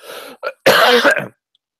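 A person clears their throat and gives a short cough, close and loud, over under two seconds.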